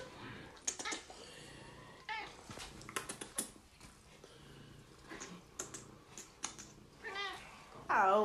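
A house cat meows indoors a few times, with a louder, closer meow near the end, under a quiet domestic background with scattered rustles and a faint voice.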